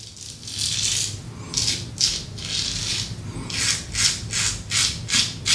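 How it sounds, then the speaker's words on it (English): A Pearl single-edge safety razor cutting through hairs while shaving, close raspy scraping strokes repeating in a quick rhythm, each stroke a crisp rattling crackle. "You can hear those hairs still popping"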